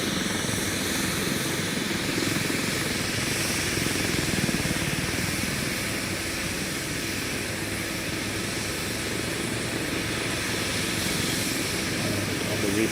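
A UH-60M Black Hawk VIP helicopter in the X-Plane 12 flight simulator sets down near a highway overpass in Manhattan, its steady rotor and turbine roar filling the whole stretch at a constant, loud level without any talking.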